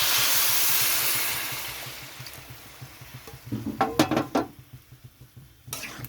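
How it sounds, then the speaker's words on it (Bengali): Hot water goes into a pan of sizzling taro (maan kochu) curry. A loud hiss fades over a couple of seconds, then a spoon or ladle clinks and scrapes against the pan several times. "তো ওখানে আমি দিয়ে দিচ্ছি গরম জল।"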